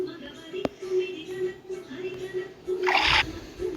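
A short, splashy burst of pouring liquid from a color-sorting puzzle video game, lasting well under a second over a faint background tone, with a voice speaking nearby.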